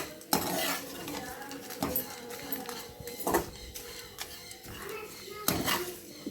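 Grated coconut, dried red chillies and cinnamon sautéing in a pan for Karaikudi chicken curry, with repeated clanks and scrapes of a utensil against the pan over a faint sizzle, and some soft voice sounds in the background.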